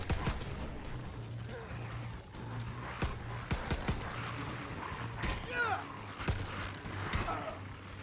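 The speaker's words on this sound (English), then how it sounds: "Now shoot the zombies 7 times and melee twice." Gunfire aimed at zombies in Call of Duty WWII Nazi Zombies: repeated sharp shots at irregular intervals over a busy, clattering background with a low droning hum.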